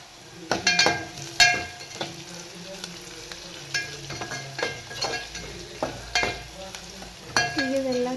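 Vegetables frying in a pan with turmeric, a loud close sizzle broken by repeated scraping stirs of a spatula, with no voices.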